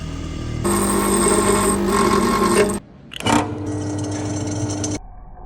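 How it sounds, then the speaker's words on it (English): A power grinder whines loudly against metal, grinding off weld tacks in two long bursts, cutting out briefly between them with a harsh scrape at the restart. "grind the tacks off, job done"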